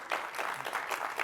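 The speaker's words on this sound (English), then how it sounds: "This is where I expect an applause." Audience at a tech conference session clapping briefly, a short, sparse burst of hands at moderate volume.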